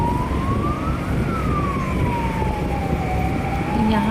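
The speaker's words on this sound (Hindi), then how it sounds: "यहाँ पे हमेशा एम्बुलेंस सब चलते रहती है" An ambulance siren wails in a long rising and falling sweep as it moves through a busy market street, loud and continuous over heavy traffic and crowd noise.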